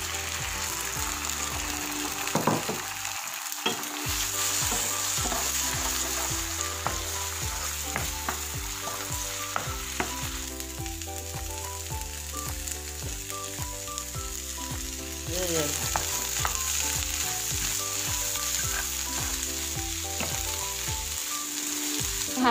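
Pickled spider flower being stir-fried with egg in a pan, a steady loud sizzle and frying hiss throughout with the scrape and clatter of a utensil stirring, no talk.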